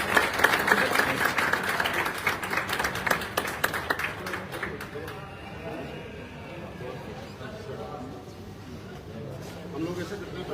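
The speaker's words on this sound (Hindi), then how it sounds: "उनके लिए भी एक जोरदार तालियां।" Audience applause breaks out at an achiever awards gathering: loud, dense clapping from a crowd for about five seconds, then it thins out into softer crowd murmur and scattered sounds.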